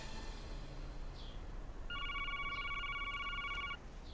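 A phone rings once in a short, clear electronic burst lasting under two seconds, fairly faint against quiet room tone in a comedy film scene.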